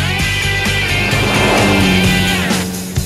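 A Citroën Cactus weighing 965 kg drives by with a loud, steady engine and road noise that swells through the middle and eases off toward the end.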